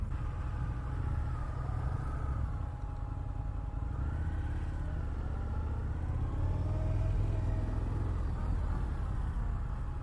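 An Indian FTR 1200 S motorcycle rides at low speed through cones in Scottsdale, Arizona, its engine a steady, close rumble that runs without a break and swells slightly toward the end, with no talk.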